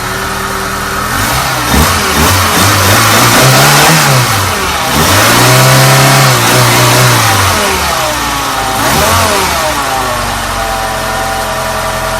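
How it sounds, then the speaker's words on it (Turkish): A Tofaş car engine fitted with new iridium spark plugs idles and is revved several times, each rise and fall of engine speed loud and close, with no talk over it. "Arkadaşlar aracın hem çalışması hem de elinin gaz yemesi şu an gayet tatmin edecek."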